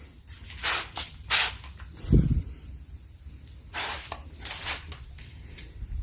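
Iron fallout remover sprayed onto car paint in repeated short hissing bursts from a trigger bottle, several quick squirts in irregular rhythm, close and fairly loud, with a duller thud midway.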